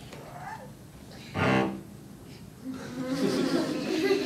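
A cello played badly on purpose: one short, loud, buzzy scraping stroke in the middle, surrounded by quiet room noise and a low murmur toward the end.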